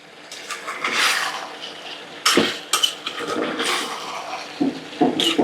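Pre-fried potatoes are tipped into a pot of browned chicken curry, giving clattering knocks and scrapes of utensil on the pot with a wet, sloshing rush, in uneven bursts separated by quieter moments.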